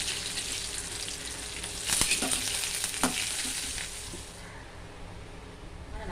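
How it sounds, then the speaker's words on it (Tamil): Dried chillies and garlic fry in bubbling groundnut oil, a steady close sizzle with a few brief stirring knocks, then settling slightly quieter; no talk over it. "கடலெண்ணெய் இப்போ ஊற்றிருக்கேம்மா அதனால தான் கொஞ்சம் பொங்குது"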